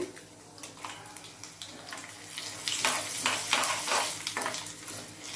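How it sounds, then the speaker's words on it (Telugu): Tempering seeds and dry red chillies hit hot oil for a tamarind pickle, giving a crackling sizzle that builds in intensity with rapid popping bursts, close and fairly quiet, with no talk. "ఇప్పుడు ఆయిల్ వేడైంది తాలింపు గింజలు"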